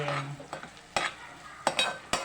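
Ginger garlic paste frying in fish curry gravy, with close stirring scrapes and bursts of sizzling against a soft bubbling simmer, several sharp spoon strokes over a couple of seconds.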